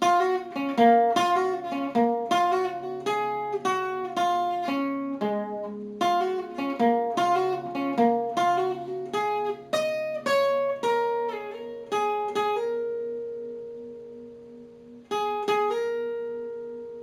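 A melodic electric guitar solo line of plucked notes plays in quick runs and phrases, then slows to a couple of long held tones, clean and close.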